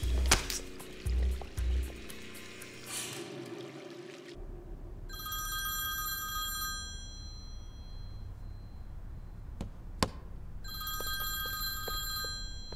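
A telephone rings in a quiet room, sounding as two clear bursts of bright, repeating electronic rings separated by a pause, with a few soft knocks and low room tone underneath.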